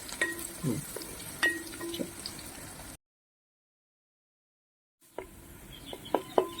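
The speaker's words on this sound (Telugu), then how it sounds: "ఈ ఉల్లిపాయలు మంచిగా ఫ్రై చేసుకోవాలి గోల్డెన్ బ్రౌన్ కలర్ వచ్చేంత వరకు" Onions frying in a pan until golden brown for a simple mutton gravy curry, a steady sizzle with stirring scrapes, broken by a silent gap before the frying returns.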